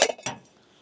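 An Alocs camping cookware lid clinks onto a frying pan: two quick metallic clinks, close and bright, each ringing out briefly before fading.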